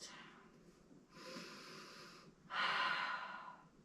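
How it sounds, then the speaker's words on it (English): Deep breaths from someone resting in child's pose during a Pilates core workout: a long inhale followed by a stronger, louder exhale, airy and close, with no talking. "Take a few breaths here."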